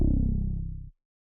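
A third 808 bass in an FL Studio trapsoul beat gives one short, punchy, warm low note that decays for under a second and then cuts off, followed by silence.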